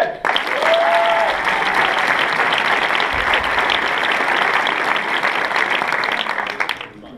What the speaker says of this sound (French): Je vous demande d'applaudir Timothée.